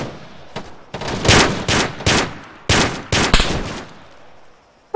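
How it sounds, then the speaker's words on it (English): Squad gunfire in Arma 3 at night erupts in several sharp, loud bursts spaced irregularly over a few seconds, with brief quiet gaps between volleys and a final shot at the end. "Okay, team, open fire and click contacts."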